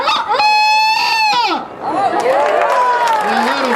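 A man at the Salt Spring Fall Fair rooster calling contest imitates a rooster's crow with his voice: one loud, drawn-out cock-a-doodle-doo, followed by crowd noise and cheering.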